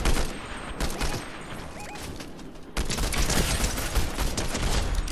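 Video game gunfire in Fortnite, rapid bursts of shots crackling across the whole clip, a lighter stretch at first and then a louder, denser volley in the second half, with no talk over it.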